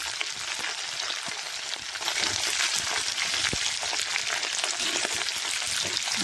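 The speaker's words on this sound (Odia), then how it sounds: "ଏବେ ଆମେ କରେଇରେ ପିଆଜ ସଣ୍ଡା ଦେଇଦେବା।" Spring onion frying in a wok for a spring onion and potato fry, giving a loud, steady, dense sizzle that runs unbroken throughout with no voices.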